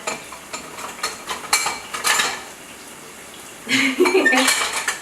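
A new pan and a white spoon clink and scrape in a home kitchen while stuffed bell peppers are prepared, giving a few light metallic taps followed by a busier burst of clatter near the end.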